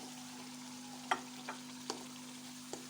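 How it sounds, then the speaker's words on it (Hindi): Pumpkin pieces fry in hot oil in a pan over medium-low flame. A faint, steady sizzle is broken by a few soft clinks of a spoon stirring. "जो कद्दू था वो हम इसमें डाल देंगे"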